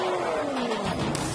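An off-road race truck engine with a Borla exhaust revs and climbs in pitch, a loud, close, continuous exhaust note with rising tones and no talk.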